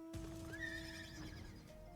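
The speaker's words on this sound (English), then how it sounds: "Golden horse." A horse in the video game Final Fantasy XIV lets out a rising, quavering whinny over the steady clip-clop of hooves, while a constant tonal hum runs underneath throughout.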